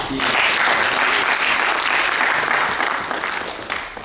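Sustained applause from an audience at a faculty farewell ceremony for retiring teachers, loud and steady before easing off toward the end.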